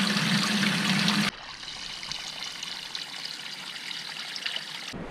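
A 450 gallon per minute water pump fills a tank, giving a steady rushing, trickling flow of water that runs continuously and fairly loud, with a brief louder surge at the start.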